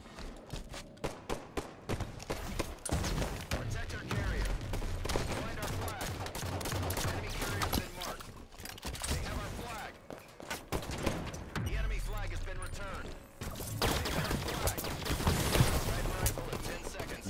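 Rapid automatic gunfire and bursts of shots from Halo 5 in a Coliseum capture-the-flag match, dense and continuous for most of the stretch with brief lulls, mixed with game effects and player voice chatter.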